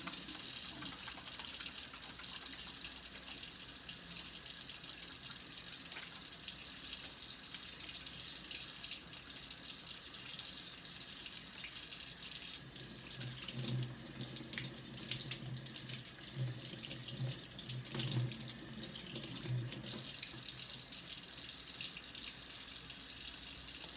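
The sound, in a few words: washing hands under a running tap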